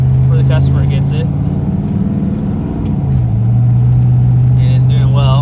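1996 Impala SS with a Gen V V8 swap on a test drive, steady loud engine drone from inside the car with a brief dip in revs, someone talking over it.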